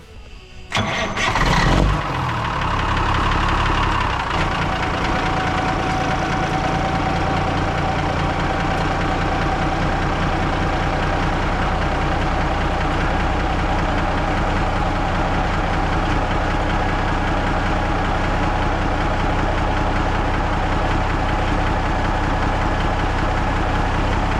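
A 1981 Peterbilt 359 truck with cat-back exhaust and muffler delete cranks briefly, fires up loudly, then settles into a steady, deep, rumbling idle that continues close and unbroken with no talking.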